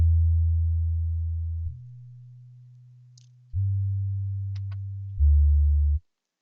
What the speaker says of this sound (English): I've just got some really long bass notes